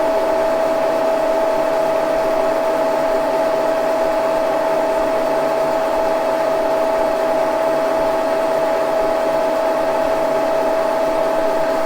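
A Wohlhaupter UK4 rotary head on a milling machine cuts a 45-degree bevel at a fine 2/1000ths-per-turn feed, giving a steady, unbroken mechanical whine with a constant hum that holds the full length.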